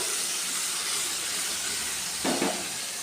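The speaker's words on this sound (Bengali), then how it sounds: "এখন এই মশলাটা দেওয়ার পরে আমরা একটু কষিয়ে নেব" Spice paste of chili, turmeric, cumin and coriander hisses steadily in a hot pan while taro greens are being cooked, with a brief louder sputter near the end and no voices.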